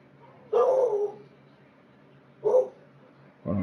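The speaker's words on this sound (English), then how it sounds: "My dog's barking for some reason." A pet dog barks during a session of the baseball game MLB The Show 21: two or three loud, close barks spaced about two seconds apart, each short and sharp, with quiet gaps between them.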